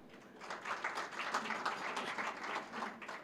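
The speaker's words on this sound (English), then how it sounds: "Let's clap for him." Applause from a crowd, moderately faint and steady, a dense patter of clapping that swells slightly and holds for a few seconds.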